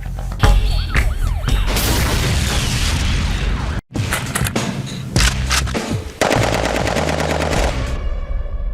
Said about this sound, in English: This is a AKM fully automatic machine gun.